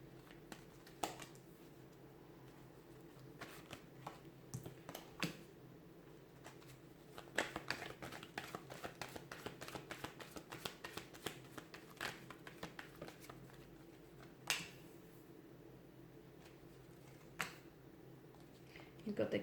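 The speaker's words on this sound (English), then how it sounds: "let's give the cards a shuffle" Soft papery riffling and light taps of tarot cards being shuffled, scattered through a quiet background hum, with brief louder bursts near the middle and end.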